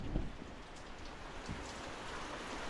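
Heavy monsoon (habagat) rain pouring steadily with a dense, even hiss of drops on surfaces, fairly distant and consistent throughout, with no voices.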